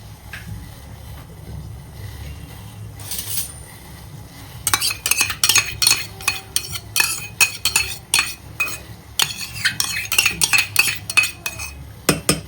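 A spoon stirring chicken with lemon juice and egg in a metal bowl, quiet at first and then a close run of rhythmic clinks and scrapes against the bowl.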